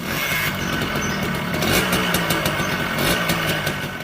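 A Suzuki Akira 110 cc semi-upright engine motorcycle with a five-speed manual gearbox runs steadily, its mid-pitched engine drone loud and close, with slight rises in revs and no talk over it.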